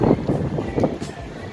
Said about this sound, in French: Il y a quand même un peu de vent.